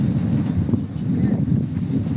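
Strong wind rumbles and buffets the microphone continuously, a loud low roar with little else audible.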